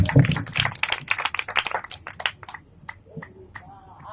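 An audience at a satsang gathering in Agra claps loudly after a wedding ceremony, with dense, scattered hand claps that thin out to a few isolated claps as the applause dies away.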